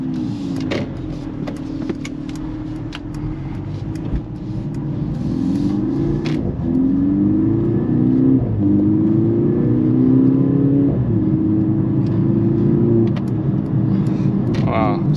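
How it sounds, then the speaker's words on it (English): A Mercedes-AMG GLC 43 Coupe with its 2.0-litre turbocharged inline-four drones steadily while driving, rising in pitch through a couple of gear pulls and swelling louder about halfway through, with someone talking now and then. "It's a four-cylinder engine, but hear me out."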